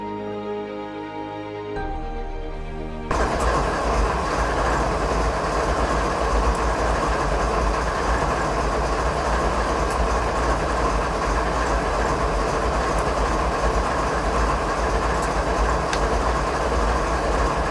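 A locomotive in a Canadian mountain pass train simulator rumbles steadily after a quieter opening, with a continuous engine drone and faint rhythmic rail clatter, loud and unbroken with no voices.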